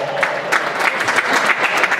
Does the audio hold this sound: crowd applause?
yes